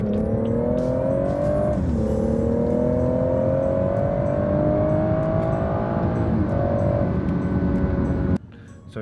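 A BMW 440i moves through rush hour traffic, its engine droning loud and close as the pitch climbs steadily through a couple of gear changes, then the sound cuts away abruptly just before the end.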